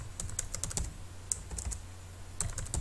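Keys clatter on a computer keyboard while data is entered into an Excel spreadsheet, quick irregular clicks in short bursts with pauses, close and clear with no voices.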